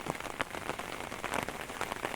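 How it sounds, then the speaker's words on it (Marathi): Light monsoon rain patters steadily on a surface in Kumbhavade, Rajapur, a soft continuous hiss of fine drops with no voices. "बारीक बारीक पाऊस पडतात"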